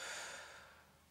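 A person fully exhales during a collarbone breathing exercise: one soft, breathy outward breath that is loudest at the start and fades gradually over about a second, with no talking.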